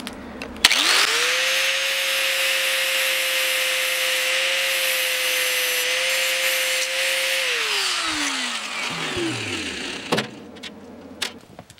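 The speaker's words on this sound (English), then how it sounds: "What I'm going to do is just take the grinder and just take a little hair off of that." An angle grinder spins up sharply and holds a loud, steady whine as it takes down a patch panel on a 1953 Ford F100 truck, then winds down near the end with a few clanks.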